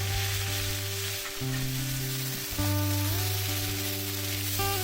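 Garlic paste and onion paste sizzling in hot oil with dried red chilli and whole cumin, a loud continuous frying hiss that surges as the pastes hit the pan.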